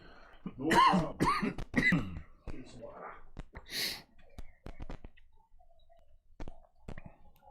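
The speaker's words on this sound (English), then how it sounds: "I just got a cough here, so excuse me" Several close, harsh coughs in quick succession from one person, followed by quieter throat sounds and small clicks in a mostly quiet room.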